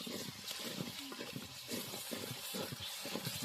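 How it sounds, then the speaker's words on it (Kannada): Water gushes and trickles into a pot of vegetable kurma being cooked in a village kitchen, a continuous close, soft pouring and bubbling wash with no talk over it. "ಈಗ ಸ್ವಲ್ಪ ನೀರು ಹಾಕುವ ಅಕ್ಕ, ಸ್ವಲ್ಪ ಹಾಕು ಮಗ"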